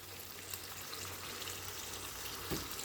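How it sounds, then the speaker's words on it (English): Water poured into a cooking pot of chicken bhuna on medium heat, a steady quiet hiss and wash that stays fairly even throughout, with a brief louder splash near the end and no voices. "And I will add maybe 3/4 of a cup of water"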